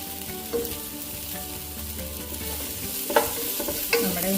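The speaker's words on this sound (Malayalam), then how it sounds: "ഇനി നമുക്ക് ഇഞ്ചി വെളുത്തുള്ളി പേസ്റ്റ് ഇച്ചിരി ഇട്ട് കൊടുക്കാം." Ginger garlic paste fries in ghee for sweet corn chicken soup, a soft steady sizzle broken by a few scraping stirs of a spoon in the pan, quiet and close with no voices.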